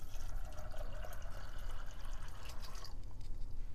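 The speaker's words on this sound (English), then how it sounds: "we've placed our black-eyed peas into the pressure cooker and we're going to add the water" Water pours and splashes into a pressure cooker holding black-eyed peas, a continuous gurgling fill with some dripping toward the end, close by and moderately loud.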